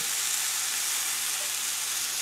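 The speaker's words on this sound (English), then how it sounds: "dry bake the chicken on the stove in the pan" Steady, dense sizzling of boneless, skinless chicken frying in a hot pan on the stove, continuous and fairly loud with no voices.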